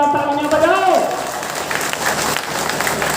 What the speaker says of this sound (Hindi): उनके लिए भी जोरदार तालियां बजाओ।